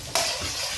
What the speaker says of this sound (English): just give that a wee stir.